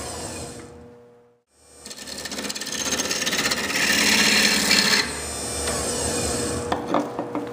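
Gouge cutting spinning wood on a lathe while turning a candlestick, a steady close rasping scrape that swells and holds after a brief pause, with no talk.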